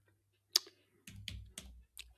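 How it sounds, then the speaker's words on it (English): A few sparse, irregular keystrokes on a computer keyboard, close by but quiet, with short gaps between clusters of clicks and no talking. "I hate typing."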